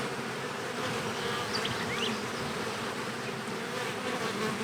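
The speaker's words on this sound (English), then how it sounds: "these bees that we just released are now going to smell that and head in" Honey bees buzz steadily around the entrance of a nucleus colony hive outdoors, a dense, continuous drone with a few individual bees flying close past, no talking.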